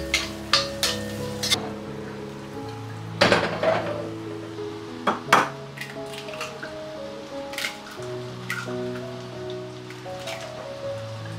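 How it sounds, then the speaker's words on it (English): Chopped onion drops into hot oil and butter, seasoned with pepper powder, in a large iron kadai, giving sudden bursts of close sizzling and crackle with light metallic clinks over a steady tonal background. "add chopped onion"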